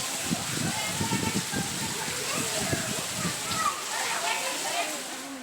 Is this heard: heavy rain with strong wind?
yes